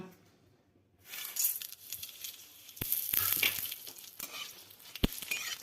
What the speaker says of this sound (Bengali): এবার আমি ফোড়ন দিব তেজপাতা, শুকনো লঙ্কা, গোটা জিরে, গোটা গরম মশলা।